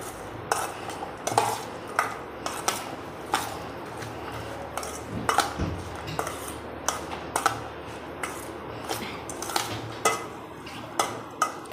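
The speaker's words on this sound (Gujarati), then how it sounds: "સલાડને મિક્સ કરી લઈશું." A vegetable salad for Mexican tacos being mixed in a bowl, salted and with coriander, giving irregular light clinks and scrapes of a utensil against the dish over a quiet background.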